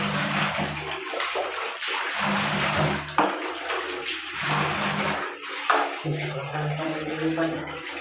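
Water runs and splashes steadily into a bathroom basin, a continuous hissing pour that briefly swells and dips. A low hum comes and goes underneath, and no one speaks.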